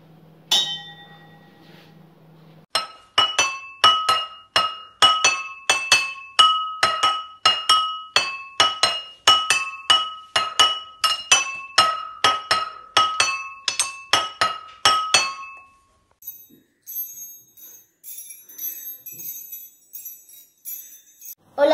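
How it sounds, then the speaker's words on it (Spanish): Glasses filled with different amounts of water are struck to play a tune, ringing out in a quick, rhythmic series of clear, bright clinks and sustained pitched tones that stop near the end. "Más, menos agua tiene, más agudo suena. Y ahora le voy a hacer una música."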